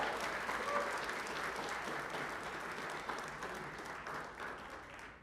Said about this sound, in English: Ladies and gentlemen, Mariachi Los Gavilanes. Let's give them a big round of applause.